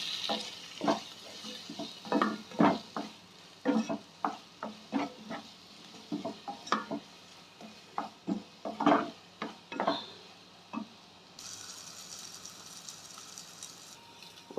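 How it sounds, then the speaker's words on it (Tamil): A spoon stirring egg through a sizzling pan while egg rice is made, with a steady run of scraping strokes and knocks against the pan over a soft frying hiss that lingers alone at the end. "இப்போ எல்லாத்தையும் ஒன்றா நம்ம மிக்ஸ் பண்ணிக்கலாம்."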